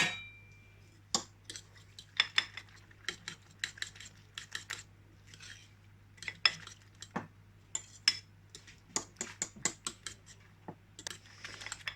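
Eggs, salt and chilli flakes are mixed in a bowl, with rapid irregular clinks and taps of utensil against the bowl, close but fairly quiet over a low steady hum.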